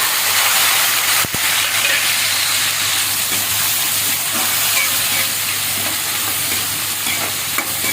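Small onions and tomatoes sautéing in a pan for dal urundai kuzhambu, a loud, continuous close sizzle with a sharp stir or tap early on and soft scraping throughout.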